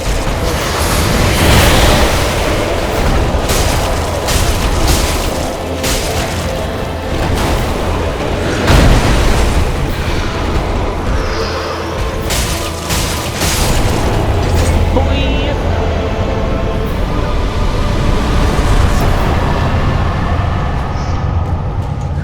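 Dark Souls played on PC with the player character on fire, a dense, loud, continuous roar of game effects with booming bursts and crackle throughout, steady and unbroken, no one speaking.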